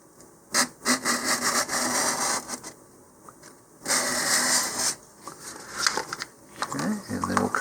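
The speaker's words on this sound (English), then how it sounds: "just, again, roughen it with a little bit of sandpaper" Sandpaper roughening a cardboard model rocket body tube for an Orion kit, short bursts of close, raspy scraping strokes separated by pauses, with a voice speaking between passes.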